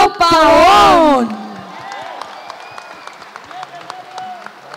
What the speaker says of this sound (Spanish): Quiero que recibamos, Mari, con un fuerte aplauso a Fernandito Pavón.